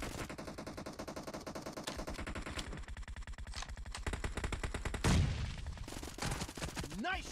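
Rapid automatic gunfire from the PUBG video game, with dense rattling bursts of shots packed closely together, plus a few louder hits and sharp metallic accents near the end.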